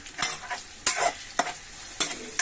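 Green chillies sliced lengthwise fry with onion in a pan for a bottle gourd curry. A spatula stirs them in about four distinct scraping strokes over a soft, steady sizzle.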